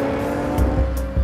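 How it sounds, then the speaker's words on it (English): A Jaguar F-Type engine with active sports exhaust drones with a steady tone, punctuated by a few sharp low bursts and crackles, loud and close with no voices. "you can enjoy a richer, even more explosive exhaust note"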